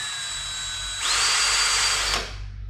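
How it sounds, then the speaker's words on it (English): A power drill bores holes into wood while building a model mountain spruce tree for a train layout, a single loud steady whir of about a second that starts sharply and cuts off, with quieter background before and after. "you're gonna move down about 1/4 inch from it and drill on the bottom."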